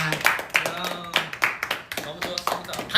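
Several people clap together in short irregular bursts during a Korean idol group's live stream, the claps mixed with talking voices close by.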